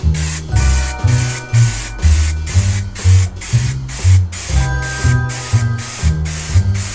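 Spray adhesive hisses from an aerosol can in repeated close, loud bursts with short pauses between, applied while refitting interior door cards on a VW T5 Transporter.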